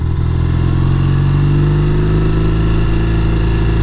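A 1969 Triumph T120R motorcycle in fabulous condition, its engine running close and loud with a steady, throbbing idle and a slight rise in pitch, no voices over it.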